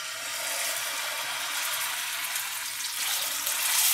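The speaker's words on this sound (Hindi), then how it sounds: "कीमे को फ्राई कर लेंगे।" Chicken mince frying in oil in a pan, a steady, close sizzle and crackle that holds evenly throughout and swells slightly near the end.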